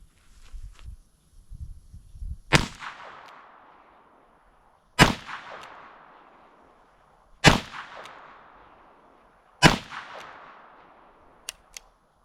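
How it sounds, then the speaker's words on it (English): Four loud, sharp shots from a Smith & Wesson 648-2 .22 Magnum revolver fired single action, spaced about two and a half seconds apart, each with a short ringing decay, and quiet handling noises before the first shot. "I'm gonna go all single action this time and see if I can get through the whole cylinder."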